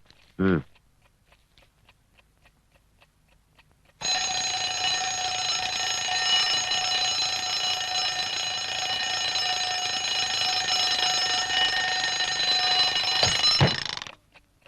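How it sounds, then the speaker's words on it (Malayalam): An alarm clock rings loudly and continuously for about ten seconds before cutting off abruptly, with a short voice heard just before it starts and a faint sound after it stops. "ഇതെന്തിനാ ഇപ്പൊ അലാറം അടിക്കുന്നു?"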